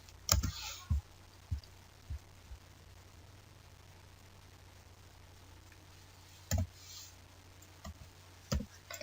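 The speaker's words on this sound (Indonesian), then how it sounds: "Terlebih dahulu kita ketik rumusnya." Scattered keystrokes on a computer keyboard while a formula is entered, a few isolated clicks early on and again near the end, fairly faint against a quiet background hiss.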